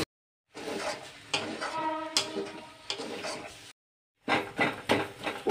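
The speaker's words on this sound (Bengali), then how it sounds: "এখন আমি ভালো করে নেড়ে চেড়ে ডালের জলগুলো সব শুকিয়ে নেব।" Spatula stirring green pea kachori filling with sugar in a pan to dry out the dal water, giving close scraping and clattering strokes in bursts broken by brief pauses.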